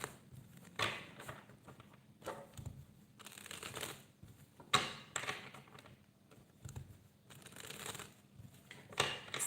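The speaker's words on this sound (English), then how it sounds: "I'll start shuffling your cards." Tarot cards being shuffled give repeated soft riffling bursts and taps in irregular clusters, close and moderately quiet, with quiet gaps between them.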